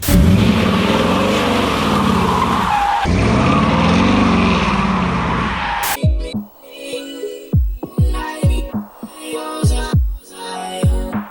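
A 355 small block Chevy V8 with a mild cam in a squarebody C10 truck revs hard and steadily, then settles into an idle broken by sharp blips of the throttle, loud and close.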